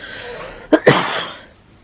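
Two sharp coughs close to the mic in quick succession, the second slightly longer, with a quiet room hush around them.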